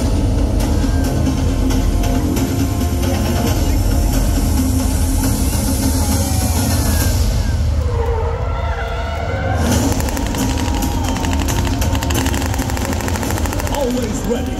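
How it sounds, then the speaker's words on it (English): Mark II light strike vehicles manoeuvre at a national day parade, giving a loud continuous rumbling, rattling engine roar with a brief dip midway, mixed with crowd and arena noise. "These highly mobile light strike vehicles will demonstrate their agility through a series of precise maneuvers."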